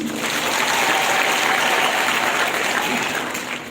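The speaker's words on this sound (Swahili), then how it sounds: "Hebu jipigie makofi." An audience at a county scholarship award ceremony in Bungoma applauds loudly and steadily, a dense wash of clapping hands that holds for several seconds before tapering slightly at the end.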